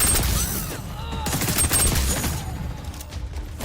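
Rapid bursts of assault rifle fire in the shooter game XDefiant, dense and loud with overlapping shots and a booming low end, under a fairly busy in-game soundscape.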